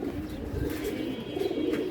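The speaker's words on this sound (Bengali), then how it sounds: "ধরেন 20-22টার মতো কবুতর আছে আমার" Pet pigeons cooing at home in Bangladesh, soft low repeated coos close by over a quiet background, with no talking.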